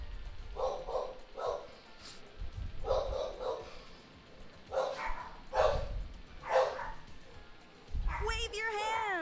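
Several dogs bark in short repeated bursts at moderate distance, woven through ongoing talk and background game noise, with a brief higher whine near the end.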